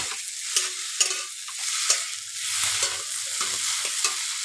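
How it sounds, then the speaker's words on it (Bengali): Potatoes frying in oil until browned, with a spatula repeatedly stirring and scraping the pan in short strokes over a continuous close sizzle; no talking. "তো দেখো আমার আলুগুলো ভাজা হয়ে গেছে, একদম লাল করে ভেজে নিলাম"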